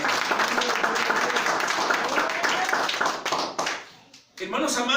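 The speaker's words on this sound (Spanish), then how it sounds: "Un aplauso a mi Señor." A church congregation claps and cheers in a dense, sustained burst of applause during a service, fading briefly near the end before voices pick up again.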